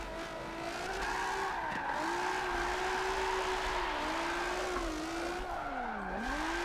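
Car drifting with tires sliding and screeching in Forza 7, steady loud engine drone with wavering pitch dipping and rising as the slides build, continuous throughout without talk.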